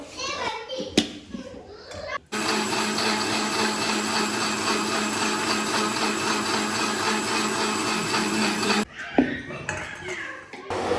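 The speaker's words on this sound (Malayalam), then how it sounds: "എന്നിട്ട് മിക്സിയിൽ നന്നായിട്ട് അടിച്ചെടുക്കും കേട്ടോ." A loud mixer grinder blending cream with water to make ghee whirs steadily for several seconds, starting and stopping abruptly, with brief clatter before and after.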